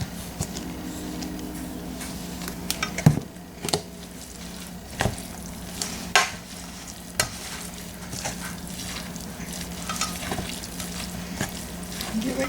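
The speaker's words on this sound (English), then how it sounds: "Give it a good mix." Stuffed pepper filling with paprika cooking in a pan, a steady low sizzle under repeated spoon scrapes and taps as it is stirred, close by, with no talking.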